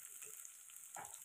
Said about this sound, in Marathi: कांदा पण छान मस्त असा सोनेरी कलर येईपर्यंत तळून घ्यायचा